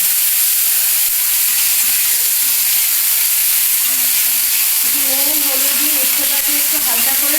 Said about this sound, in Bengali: তা উচ্ছেটা আগে একটু সামান্য ভেজে নিচ্ছি